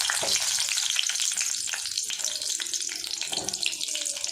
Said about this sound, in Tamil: லோ ஃப்ளேம்லேயே கத்திரிக்காயை எண்ணெயில் நல்லா வறுத்துக்கலாம்.